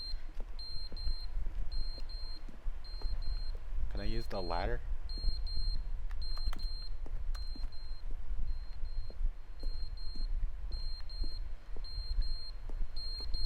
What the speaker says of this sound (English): That fire alarm's getting annoying.